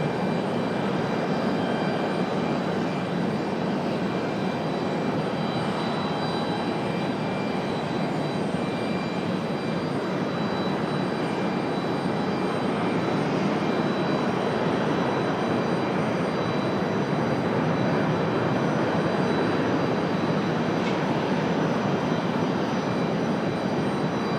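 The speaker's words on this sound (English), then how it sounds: "Got a Delta 737 on the way out here." A Delta Boeing 737 jet taxis out at Raleigh-Durham airport, its engines giving a steady, loud broadband roar with a faint high whine that holds evenly throughout, no voices present.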